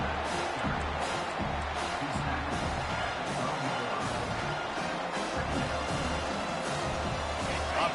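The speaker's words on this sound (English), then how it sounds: "Getting loud as this crowd tries to help its defense." A football stadium crowd roars and cheers in a continuous wash of noise during a college game between Texas A&M and Michigan, with faint commentary mixed in.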